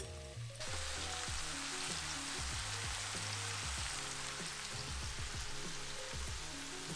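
Sausage and vegetables for chicken and sausage gumbo cook down in a pot, a dense steady sizzle with bubbling pops, under a quiet musical backing and no speech.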